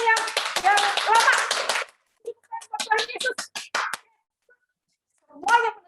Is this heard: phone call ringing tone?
no